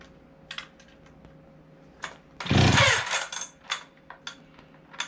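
An antique Stihl 031 chainsaw with a freshly cleaned carburetor is pulled over outdoors: a loud, rough burst of starter and engine noise lasting about half a second, between scattered light clicks and knocks.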